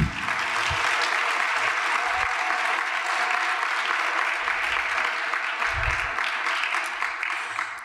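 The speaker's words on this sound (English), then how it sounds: "Can we give them all a round of applause?" A keynote audience at a social justice institute think tank applauds steadily throughout, a dense, sustained wash of clapping with faint low thumps from the room.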